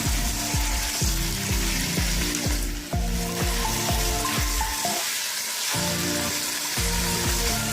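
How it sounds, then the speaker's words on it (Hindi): Chicken pieces and potatoes frying in a pan, with a loud steady sizzle and rhythmic scraping stirs repeating close up, with no talking. "और आलू को और चिकन को हमने थोड़ा सा भून लिया है।"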